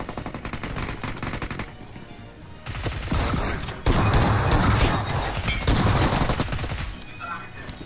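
Rapid automatic gunfire in the mobile battle royale game BGMI, dense bursts of shots that intensify and stay loud and close through the fight, with faint game sounds under them.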